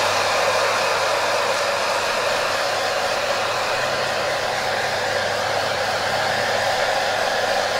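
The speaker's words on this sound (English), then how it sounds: "set the gun, get the blow dryer, heat set it" Blow dryer heat-setting fresh paint on a vintage fishing lure, a loud steady whooshing hum of the motor and airflow running continuously and close with no pauses.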